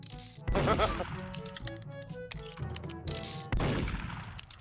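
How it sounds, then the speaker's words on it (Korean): Sharp gunshots ring out amid a busy mix of clanks and Roblox Murder game sounds, with a voice talking over them. "아 총소리"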